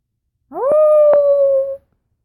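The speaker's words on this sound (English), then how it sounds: "I heard Bear's howling echo throughout the room." A single dog howl in the video game Shall We Date Blood'n Roses+ rises quickly, then holds one long, steady note before stopping abruptly, loud and close, with silence around it.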